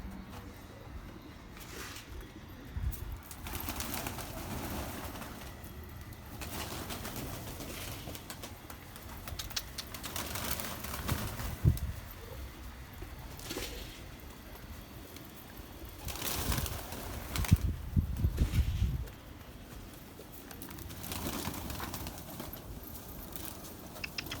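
Pigeons in a loft coo in low murmurs throughout, with scattered bursts of wing flapping and shuffling rising now and then, loudest in a cluster toward the later part.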